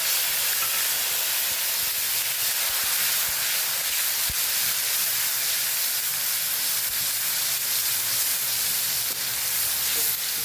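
Grated tomato and asafoetida go into hot oil and sizzle loudly and steadily for the whole stretch, a close, dense hiss with faint stirring clicks and no talk.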